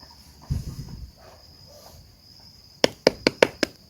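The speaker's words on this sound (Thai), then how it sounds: "เคาะนะลองเคาะดู" Five quick hollow knocks on a fruit being tested for ripeness, sharp and close, coming in a rapid sequence after a brief soft rustle.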